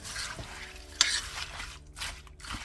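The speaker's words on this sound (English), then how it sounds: "Stir this up a little bit better" A bigger spoon stirring onion and other ingredients in a crockpot, soft scraping and swishing strokes with a sharp clink of utensil against the pot, quiet and close.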